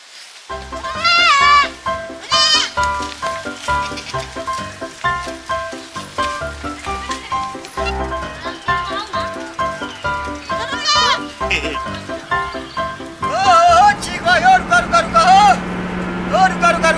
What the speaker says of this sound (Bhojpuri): बकरी मिलिए गेल